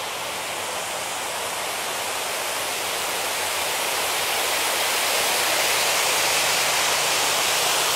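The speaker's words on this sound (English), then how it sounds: "you can see the water flowing down and the fan is pulling that air up through the water column" A cooling tower at Biosphere 2 roars with water pouring down through its column while a fan pulls air up, a dense, steady rushing wash close by with no voices.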